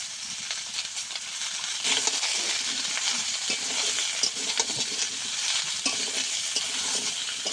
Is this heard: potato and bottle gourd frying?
yes